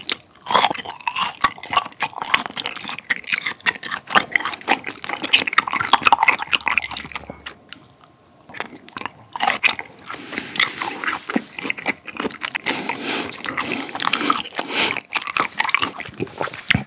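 Thick slices of winter yellowtail amberjack sashimi being chewed up close, wet squishy bites and smacking in a dense continuous rhythm, loud and intimate, with a brief quiet pause midway and no talk.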